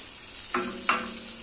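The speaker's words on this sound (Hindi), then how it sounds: "और दूसरी साइड से भी ऐसे गोल्डन होने तक फ्राई करेंगे।" Anda bread, an egg-coated bread, frying in a pan under a steady low sizzle, with two distinct scraping knocks as it is moved or turned.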